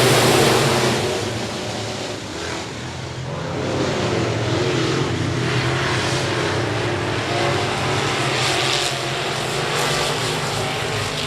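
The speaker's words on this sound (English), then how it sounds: "Fire up those engines." Race car engines roar together at I-37 Speedway, a loud sustained engine drone that swells and shifts as the field pulls away at the start, with no voices.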